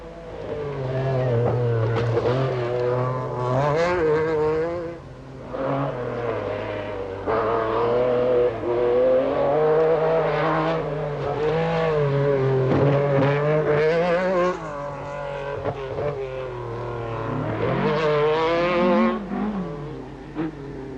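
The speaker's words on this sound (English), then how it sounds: "The MG Metro 6R4 of Tony Pond." An MG Metro 6R4 rally car on a Lombard RAC Rally stage snarls through repeated hard revving surges and gear changes, loud and close, its engine note rising and falling over about twenty seconds.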